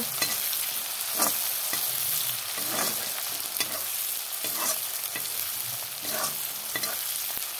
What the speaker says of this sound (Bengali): এখানে পেঁয়াজ দিয়ে দিলাম তেলে, পেঁয়াজটা লাল হলে তারপর মশলা দিয়ে দেব।